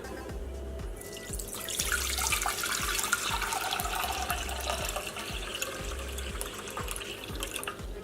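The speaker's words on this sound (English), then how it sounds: "just gonna rinse the produce" Tap water runs steadily into a kitchen sink as produce such as Roma tomatoes is rinsed, with a continuous splashing flow and irregular drips and knocks from handling.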